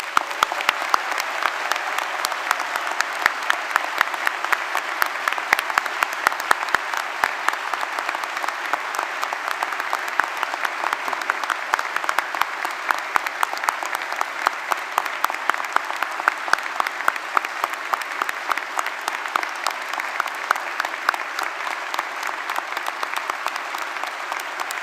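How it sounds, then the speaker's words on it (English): Sustained, thunderous applause from a standing audience celebrates new graduates at a summer graduation ceremony, a dense, even roar of many hands clapping continuously and loudly without a break. "give a really thunderous final round of applause to celebrate our exceptional"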